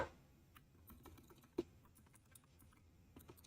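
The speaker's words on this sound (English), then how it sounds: "What is this typing, bro?" Clicks and clacks of typing on a computer keyboard, quiet and close, irregular keystrokes with one sharper tap, no voices.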